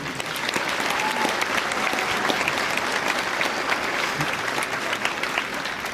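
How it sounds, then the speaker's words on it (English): A crowd at a graduation ceremony applauds the 282nd Army Band, a sustained, even roar of many people clapping that holds steady and full for several seconds with no talk over it. "Would you please join me in a round of applause for the 282nd Army?"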